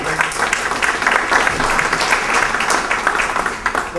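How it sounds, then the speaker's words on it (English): At a water quality luncheon, the audience keeps up a dense, even round of applause for the panelists, with many hands clapping together at close range. "Please, another round of applause for our panelists."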